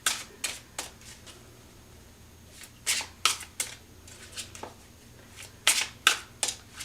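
Tarot cards shuffled by hand in a series of crisp riffling bursts with short pauses between them, close and fairly quiet, with no talking.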